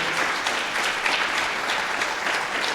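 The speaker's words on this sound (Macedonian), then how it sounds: "ве молам за еден аплауз за моите домаќини Сашко и Катерина." Audience at a literary event applauding the hosts, steady and sustained clapping from a room full of people, moderately loud throughout.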